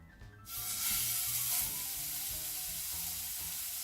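Burger patty dropped into a hot frying pan, a loud sudden sizzle that bursts up and then settles into a steady close hiss of frying, with no talk.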